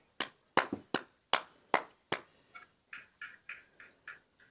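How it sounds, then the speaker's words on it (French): A small group claps in a short workout session, about a dozen sharp, separate claps close by, loud at first and then quicker and lighter toward the end, with no talk over them. "C'est ça, on s'applaudit."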